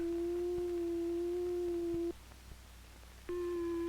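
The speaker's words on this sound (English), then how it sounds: "This is a sine wave." A pure, steady electronic tone holds for about two seconds, cuts to near silence, then returns briefly with a brighter edge.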